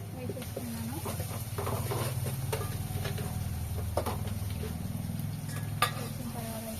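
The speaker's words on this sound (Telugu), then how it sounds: "వేసిన తర్వాత అయితే ఇలా మంచి ఫ్రై చేసుకుంటున్నాను." Mutton with ginger garlic paste fries and sizzles in a pan under stirring, a constant close hiss with occasional utensil knocks, while a voice talks over it.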